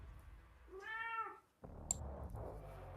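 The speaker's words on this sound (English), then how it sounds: "You hear an alley cat." An alley cat lets out a single drawn-out meow, rising and falling, heard fairly close over faint background noise, followed by a few small clicks and rustles.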